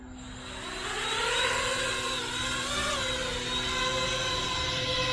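An Armattan Chameleon FPV quadcopter drone spins up and hovers nearby, its steady high-pitched propeller whine rising in pitch and then holding with slight wavering, with no voices.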